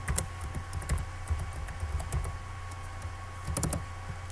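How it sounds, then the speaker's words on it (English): Rapid keyboard typing with clustered clicks and short pauses, close by, over a steady low hum. "So as I'm typing mine in"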